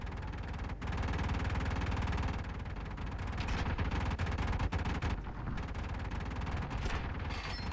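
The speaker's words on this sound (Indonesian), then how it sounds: "banyak banget yang nembakin gue" Planes firing guns in War Thunder Mobile, a dense continuous roar of rapid gunfire layered with engine noise, loud and unbroken throughout, with no talk.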